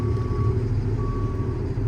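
A 2018 International 4400 truck with a 6.7 Cummins ISB engine and Allison transmission backs up, its reversing alarm giving two long, steady beeps over the close, continuous rumble of the idling diesel engine.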